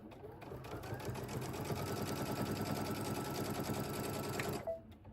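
A sewing machine stitches a quilted pumpkin placemat, running loud and steady with a fast, even rhythm for about four and a half seconds, then stopping abruptly.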